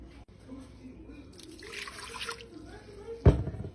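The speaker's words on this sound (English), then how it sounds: "Fill your Instapot up with about a cup of water." Water pours and trickles into an Instant Pot pressure cooker for a couple of seconds, ending with a louder clunk and splash at the end.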